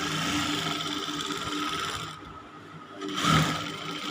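A sewing machine topstitches a jilbaab sleeve, a close mechanical whir that eases off briefly in the middle, then picks up again with a short louder burst.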